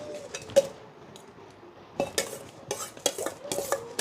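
A spoon stirs tamarind rice in a metal pot, scraping and clinking against the sides in irregular bursts, with quiet pauses between strokes and faint background hiss.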